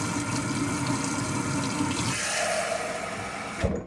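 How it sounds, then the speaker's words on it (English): Hot sudsy water pours steadily into a container for washing makeup brushes, a close, continuous rushing splash that shifts pitch partway as the level rises, ending with a brief knock. "And then I put hot water, hot sudsy water in here, okay?"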